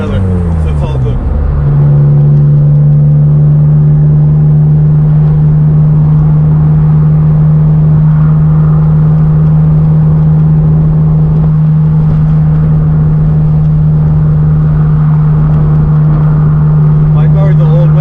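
A BMW Z3 3.0 roadster cruises through canyon roads alongside a BMW F82 M4 Competition, its engine holding a loud, steady drone after an initial shift, heard from close range with wind noise throughout.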